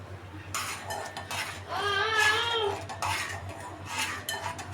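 Cutlery scraping and clinking against a pan while a coconut milk mixture, part of an egg recipe for a baby, is stirred over low heat. The scraping is steady and close, with a louder stretch in the middle.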